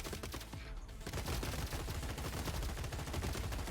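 Machine gun fire in the robot battle strategy game Gladiabot, a rapid, continuous rattle of shots with dense bursts, steady and fairly quiet.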